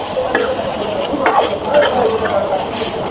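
Pre-fried katla fish heads stir-fried in a thick spice masala, with soft close scraping and stirring against the pan and a faint sizzle beneath, steady for a few seconds.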